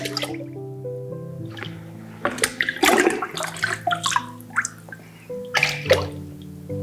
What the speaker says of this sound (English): And we're going to slowly pour our water back in.